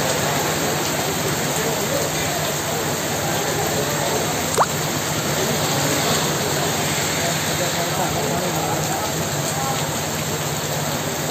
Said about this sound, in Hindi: बारिश बारिश का साउंड रिकॉर्ड कर रहे हैं